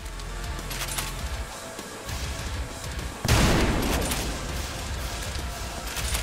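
A loud blast bursts from Trepang2 first-person shooter combat, one heavy shot or explosion partway through with a rumbling tail, with muffled impacts and action noise filling the rest.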